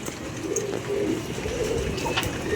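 Female antique pigeons from Faisalabad coo softly amid a steady, noisy background hiss, with no voices present.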